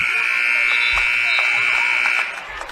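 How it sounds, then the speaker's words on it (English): A loud, sustained buzzer sounds at the end of a high school girls' basketball game, holding steady for about two seconds before cutting off, with gym crowd noise beneath it. "the Tatalini shot at the buzzer is no good."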